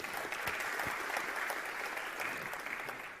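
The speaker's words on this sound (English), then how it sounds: "let's introduce, once again, with a round of applause" A spiritual talk audience gives a full round of applause to welcome a swami, with dense, steady clapping from many hands filling the room throughout.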